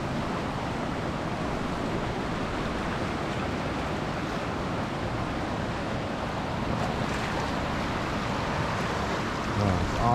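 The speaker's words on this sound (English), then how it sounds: "this river, this fast moving river." Fast-moving Clear Creek at French Gulch County Park rushes in a dense, constant roar, with no voices over the steady flow.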